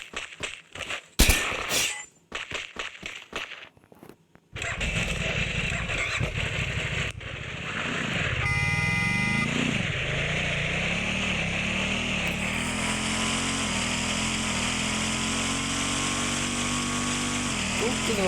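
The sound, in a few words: motorbike engine sound in video game Free Fire Max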